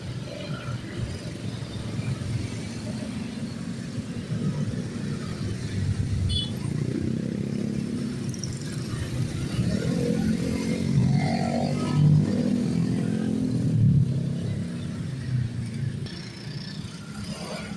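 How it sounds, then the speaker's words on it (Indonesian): Busy morning road traffic dominated by motorcycles rumbles past nearby, a steady drone of engines with passing swells and occasional clatter, no voices. "Aktivitas kendaraan yang didominasi oleh kendaraan roda 2 cukup lumayan padat di kesempatan pagi hari ini"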